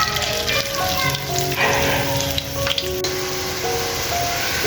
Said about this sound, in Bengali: শাপলা ফুলের বড়াগুলো ভেজে নেব অল্প তেলে